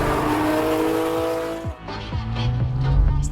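Porsche GT3 RS engine revving hard while driving, a loud, close, continuous mechanical roar that climbs in pitch, dips briefly at a gear change, then climbs again with sharp rising harmonics.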